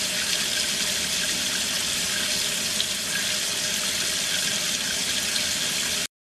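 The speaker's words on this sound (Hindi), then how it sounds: "हाथों को पानी से भिगोना," Water running steadily from a tap while hands are wetted for handwashing, a continuous close hiss and splash that holds for about six seconds and then cuts off abruptly.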